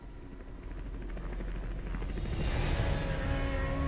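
A helicopter in the video game Metal Gear Solid V makes a steady rotor rumble and whine that grows gradually louder as it draws closer, with no talking over it.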